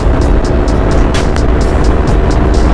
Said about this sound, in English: we're at 82 miles an hour right now, and we're going to just go ahead and give it some throttle